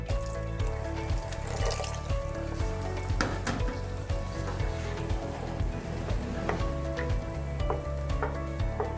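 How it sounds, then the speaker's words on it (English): Water added to a hot pan while stirring, heard as a dense, loud sizzle and bubbling hiss with intermittent scraping strokes, close up and continuous. "I'm adding water."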